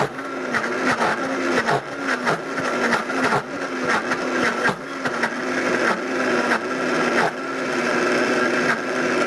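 A Vitamix blender churning thick peanut butter runs loud and close, its motor whine pulsing in a steady rhythm as the dense paste is pulled through the blades.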